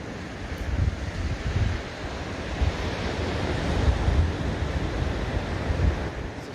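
Pacific surf rolling onto Toliak Beach on the Olympic coast, a steady broad wash of breaking waves with periodic swells and some wind rumble on the microphone.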